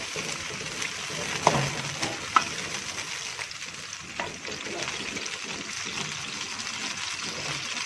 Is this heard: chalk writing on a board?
no